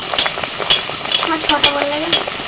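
Chicken patties fry in white oil in a pan: a close, soft sizzle with several sharp scraping or clinking knocks at irregular moments, and a brief voice-like tone partway through.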